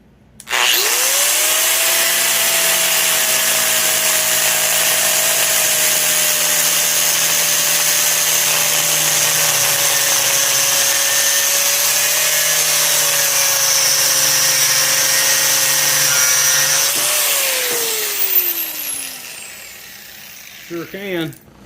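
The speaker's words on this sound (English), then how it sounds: "we'll go and just cut that off, and we can do away with that part of the rod." A power tool cuts through a metal shifter rod clamped in a vise, a loud sustained whine that holds steady for about seventeen seconds, then winds down as the cut finishes, with a few clanks afterward.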